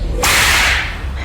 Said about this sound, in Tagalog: nakarinig sila ng malakas na paghampas na parang tunog ng latigo